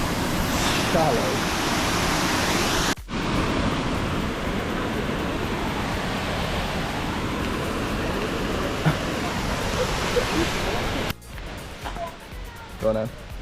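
Steady broadband rushing of the Sgwd Clun-gwyn waterfall on a Welsh woodland trail, heard from nearby on steps above it, with people talking over the continuous roar and a few abrupt breaks.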